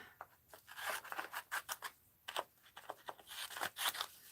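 Scissors snip repeatedly through craft material for snow globe clusters, with a quick irregular run of sharp, close cuts and short pauses between them, and no talking.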